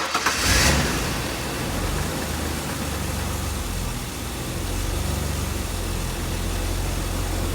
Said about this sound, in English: we'll go ahead and fire the motor now